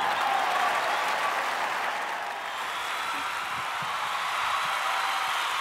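Audience applause at a live concert in Singapore, a broad, even wash of many hands clapping from a large crowd, steady and somewhat distant throughout.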